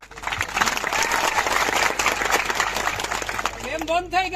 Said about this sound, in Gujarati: બંધ થઈ ગઈ તાળી